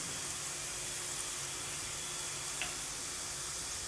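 Chicken pieces hit golden fried onions in a pan for restaurant-style aloo gosht, setting off a low, continuous sizzling hiss that stays quiet and steady throughout.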